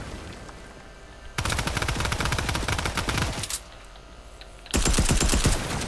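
Video game gunfire comes in two loud, dense bursts of rapid automatic shots. A short quieter gap separates them, and the second burst is slightly louder.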